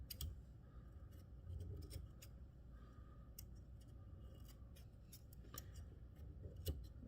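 Scissors snipping fly-tying material at the vise, several sharp close clicks and snips spread irregularly across a quiet room, with no talk.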